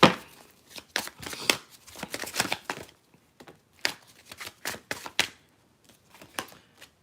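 Tarot cards being shuffled by hand, with bursts of quick riffling and flicking that come in uneven clusters with short pauses between, close and fairly crisp.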